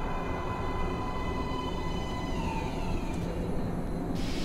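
A metro train arriving at an underground platform in the game Metro Last Light, heard as a loud steady rumble with a faint high whine over it, running throughout.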